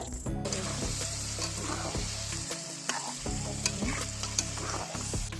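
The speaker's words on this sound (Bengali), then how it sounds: "এটা কষাতে কষাতে যতক্ষণ না একদম শুকনো হয়ে আসছে ততক্ষণ একটু কষাতে হবে।" Chicken feet are stir-fried with spice paste in a pan, a steady loud sizzle with rhythmic scraping of a spatula against the metal, close up and constant.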